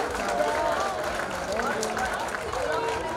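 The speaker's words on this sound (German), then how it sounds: "darf schon mal ganz herzlich einen Applaus bitten für den Rudi Rüfenacht und den Pascal Bassu" Audience clapping at the Wetzikon town festival, steady dense applause from a crowd filling the short stretch, with faint crowd murmur mixed in.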